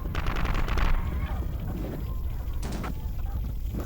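Video game gunfire crackles in two short bursts, one near the start and a briefer one later, fairly faint and muffled over a constant noisy background.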